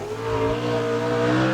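A sprint car with a 600 horsepower Chevy V8 racing, a loud sustained engine drone with steady harmonic tones and a slight rise in pitch over a second and a half.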